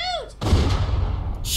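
A single loud gunshot in the Walking Dead Season 2 video game cracks out sharply, then a booming report and echo roll on and decay slowly, with no talking over it.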